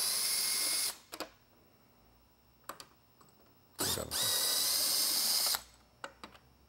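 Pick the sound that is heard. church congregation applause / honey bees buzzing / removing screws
removing screws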